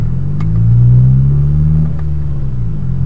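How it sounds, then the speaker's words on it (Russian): A Lada Kalina's engine revs up close under load, a loud steady low rumble that rises and eases, with no voices. "Набираю обороты, переключая передачи."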